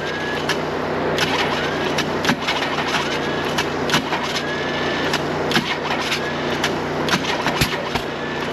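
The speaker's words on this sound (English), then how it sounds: "It's kind of backfiring up the intake." An inline six engine with timing problems cranks unevenly and keeps popping as it backfires up the intake. The sharp, irregular pops sound close and stand out above a steady mechanical drone, with no talking.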